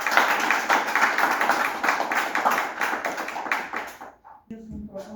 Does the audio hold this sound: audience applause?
yes